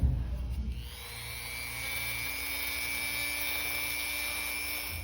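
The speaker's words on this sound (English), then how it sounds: "to point the end of the screw, I'm just going to use the good old Dremel" A Dremel rotary tool grinds a point onto the end of a steel screw, starting with a short rough contact and then settling into a steady high-pitched whine, close and alone.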